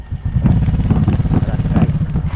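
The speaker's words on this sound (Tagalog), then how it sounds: "Lakas ng motor yan." Motorcycle engine at close range, a loud steady throbbing idle with rapid pulsing, running alone for a couple of seconds near a boat by the sea.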